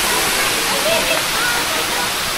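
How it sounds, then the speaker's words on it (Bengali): A large waterfall at Rock Garden in Chandigarh, with a loud, steady, close rush of falling water that fills the whole sound and never breaks. "আর আওয়াজটা খুব সুন্দর ঝর্ণার"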